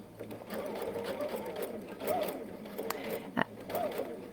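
A Baby Lock Anthem sewing machine stitches fabric with a steady mechanical whir and rapid needle patter, running close and fairly loud while a voice talks over it.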